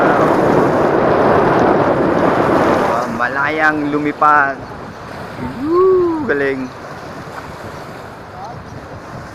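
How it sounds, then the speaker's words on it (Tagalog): Gusty wind sweeps across the little baywalk in Barangay Bukal, Calamba, a loud rushing blast for several seconds that eases as someone speaks excitedly over the lighter breeze. "di ba yung hampas ng hangin? Ayun oh, naririnig nyo ba oh?"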